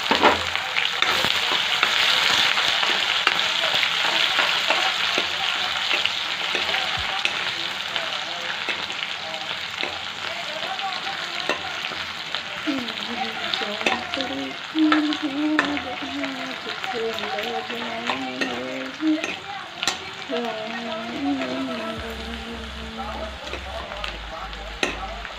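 Ginger, garlic and onion fry in hot oil in a home kitchen, giving a continuous close sizzle with occasional stirring scrapes, while a voice is faintly heard in the middle.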